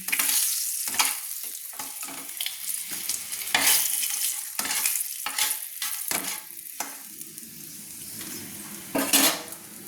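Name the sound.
rohu fish frying in a wok, lifted with a spatula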